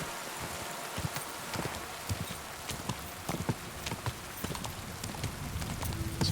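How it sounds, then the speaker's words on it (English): Horse hooves clip-clopping at a riding pace in Kingdom Come: Deliverance II, irregular soft thuds over a rustling outdoor ambience at moderate volume. "This horse doesn't feel like he's as fast as Pebbles is"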